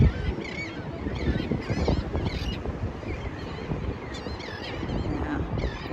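Outdoor birds recorded on an iPhone, honking and calling repeatedly from a moderate distance over steady wind rumble and microphone wind noise, with no talking.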